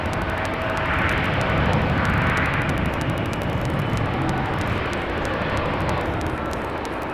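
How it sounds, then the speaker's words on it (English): A Vista Jet Bombardier Global 7500 business jet arriving at Amsterdam Schiphol from Paris gives a steady, moderately loud rushing engine roar, alone and unbroken throughout. "This is Vista Jet arriving from Paris. Bombardier Global 7500."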